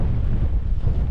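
Strong, gusty wind on an early-morning hike buffets the microphone with a loud, continuous low roar and rumble, steady and close throughout, with no voices.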